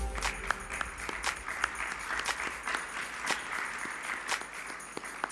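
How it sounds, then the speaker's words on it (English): An audience applauds panelists at a conference session, a steady, moderately loud patter of many hands clapping with occasional sharper individual claps standing out. "A round of applause."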